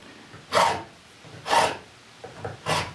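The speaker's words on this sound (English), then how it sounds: "So now I'll switch to a tool that I attempt to avoid as much as possible, which is a rasp" A wood rasp files the knuckles on a chair handhold in three slow, separate rasping strokes about a second apart, close and fairly soft, with quiet pauses between.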